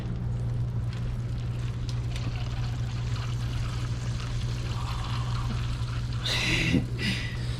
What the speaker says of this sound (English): That's the grease coming out of it.